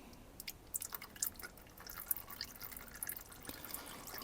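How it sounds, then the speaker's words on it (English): Oil drips from the drain of a BMW F650GS motorcycle after the drain seal is cracked, making faint, irregular little drops and patters against a quiet, hissy background. "Now you've got to sit here and wait till that stops dripping."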